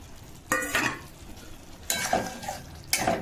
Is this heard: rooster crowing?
no